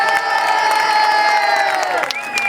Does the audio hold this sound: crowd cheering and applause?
yes